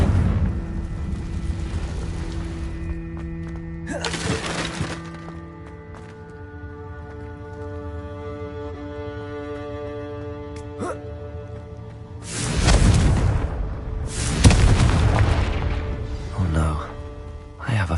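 Confringo fire spells explode in Hogwarts Legacy, loud booming bursts landing over a sustained game soundscape with tonal music, the heaviest blasts arriving in close succession late on.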